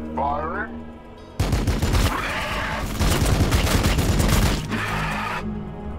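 Gunfire from a Warhammer 40k Battlesector battle, a dense crackling fusillade of rapid shots that bursts in suddenly and keeps going loud for several seconds before easing off, with game ambience before and after.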